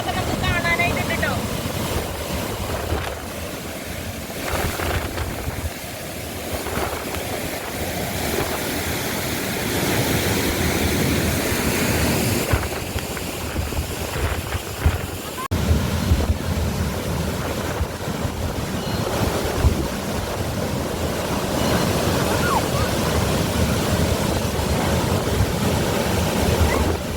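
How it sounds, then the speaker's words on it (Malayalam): Water gushes forcefully from the Chimmini Dam outlet in Thrissur in a continuous rushing roar, buffeted by wind, while people talk over it. "നല്ല ഫോഴ്സിൽ വെള്ളം വരുന്നത്"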